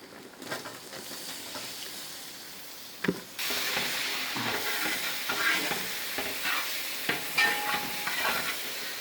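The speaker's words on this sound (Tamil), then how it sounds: "இதை மொத்தமாக ஒரு 5 நிமிஷம் அப்படியே வதக்குவோம்" Steady sizzling and frying of chopped tomatoes in a pan, with scraping stirring sounds and a louder burst as more food drops in partway through.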